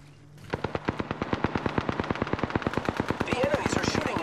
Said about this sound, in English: The enemies are shooting at me. Listen up, I'm getting shot at.